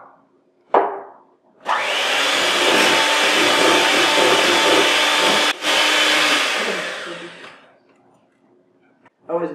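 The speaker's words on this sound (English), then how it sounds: "You can't hear me when the mixer's on." Electric mixer beating pound cake batter for an air fryer recipe, a loud steady whirring drone lasting several seconds with a brief dip in the middle, preceded by a sharp knock and fading out at the end.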